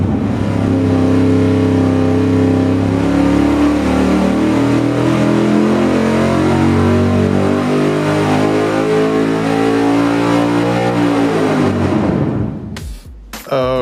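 A V8 engine from a 4.7 swap build runs a long, loud dyno pull on a dynamometer, its pitch climbing steadily for about twelve seconds before cutting off abruptly as the throttle closes.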